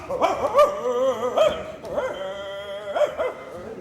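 Several dogs bark and yip excitedly in quick, overlapping bursts, close and loud, with no talking.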